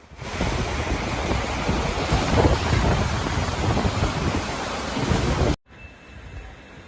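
Storm Babet drives wind and rain across eastern Scotland, a loud steady roar of gusts and downpour that continues without a break and then cuts abruptly to a quieter rumble.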